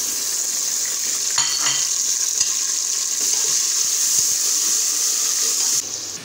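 Tomatoes, red chilies and crushed garlic tip into a hot pan for a Phaliyan Gosht curry in a small kitchen, then sizzle steadily under continuous stirring and scraping, loud and close with no talk.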